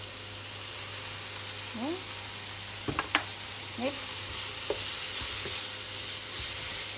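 Cajun chicken frying in oil in a pan, a soft steady sizzle with occasional stirring clinks and scrapes, while a voice briefly speaks.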